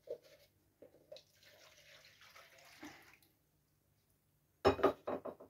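About 300 ml of water for a whey-based bee syrup is poured, with faint splashing and clinks of dishes, then a louder burst of water near the end.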